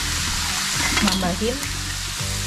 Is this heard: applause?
no